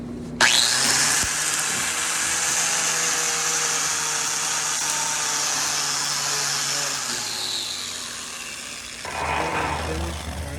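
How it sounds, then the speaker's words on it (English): A wire wheel on a grinder scours slag off a fresh weld on a T joint, giving a continuous harsh, bright whine that runs close and loud before spinning down near the end. "go ahead and clean off the slag with the wire wheel"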